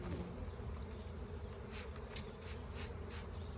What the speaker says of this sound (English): every time I spray onto this thing, the bee lands on it